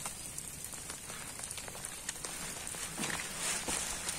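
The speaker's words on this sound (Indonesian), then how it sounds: "Hujannya mulai lagi ternyata" Rain falling on a mountain hiking trail up Mount Sindoro, a soft, steady patter with scattered distinct drops and light rustling, fairly faint and without speech.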